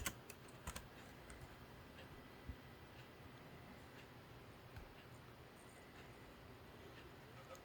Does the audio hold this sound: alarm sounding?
no